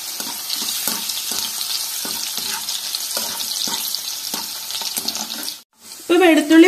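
Crushed garlic frying in oil for a Kerala mixture sizzles steadily, with repeated scraping stirs, before a brief pause and a voice speaking at the end.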